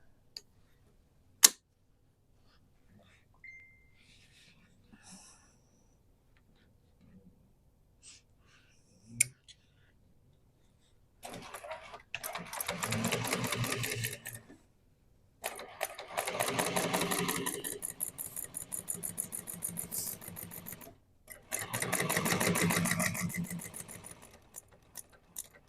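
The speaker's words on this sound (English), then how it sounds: "we're going to sew across there with the seam allowance" A sewing machine stitches a seam across a duffel bag in three close, steady runs of rapid stitching, separated by short pauses, after a stretch of scattered quiet clicks and handling noises.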